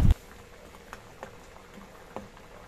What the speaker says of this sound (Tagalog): Takpan na po natin at ito po ay papakuluin natin hanggang sa ito pong karne natin ay lumambot na po.